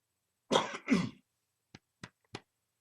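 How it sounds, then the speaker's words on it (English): A harsh, wet cough in two heavy bursts, followed by three short, sharp coughs spaced apart; close and fairly loud, no talking. "That cough has got to go."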